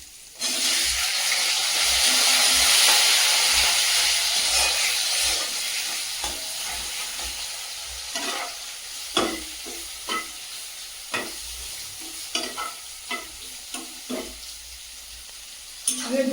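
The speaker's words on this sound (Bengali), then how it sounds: "মশলাগুলো ভাজা ভাজা হয়ে গেছে, দিয়ে দেবো কুচিয়ে রাখা পেঁয়াজ" Chopped onions hit hot oil in a kadai with whole cumin, dried red chillies and bay leaf, bursting into a loud, bright sizzle that gradually settles into quieter frying, punctuated by repeated clinks and scrapes of a stirring spoon.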